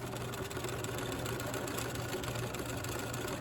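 A sewing machine satin stitches a landscape fabric postcard, running as a steady, continuous mechanical whir at close range with no talking.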